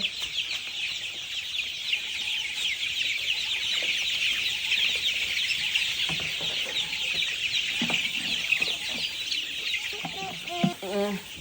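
Chickens on a small poultry farm cluck and fuss while being given feed, a steady busy flock chatter with higher bird calls throughout and occasional nearby knocks and brief voices near the end.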